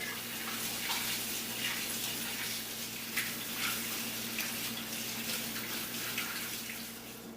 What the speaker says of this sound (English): At this point, a double hand wash.